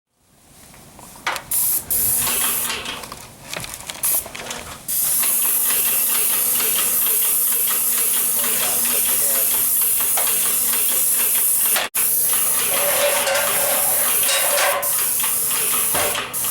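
A paint sprayer applying Ceramic InsulCoat ceramic insulating coating to house siding makes a loud, sustained hiss that runs almost unbroken, with short pauses and restarts near the beginning and one brief cut partway through.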